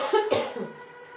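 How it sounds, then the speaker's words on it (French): A single short cough, close and fairly loud, with a brief throaty lead-in, followed by quiet room noise. "Ah ouais, je tousse."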